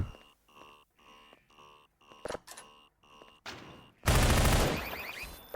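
Rapid automatic gunfire bursts erupt from a turret in Entropy Zero, a loud sustained volley following several short mechanical thunks and beeps.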